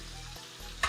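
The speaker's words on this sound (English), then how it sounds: "Get to enjoy that sizzling sound." Burger patties sizzle and spit steadily in a hot frying pan, a close continuous crackle with a brief louder burst of splatter near the end.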